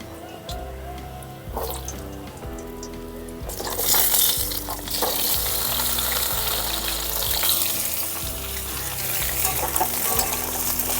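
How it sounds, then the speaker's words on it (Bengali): Potato pieces drop into oil left over from frying pabda fish, and the sizzle swells sharply and then stays loud and crackling. Stirring scrapes come in between, with a little talk at the start. "এখন এই তেলের মধ্যে আমি আলুগুলো দিয়ে ভেজে নেব।"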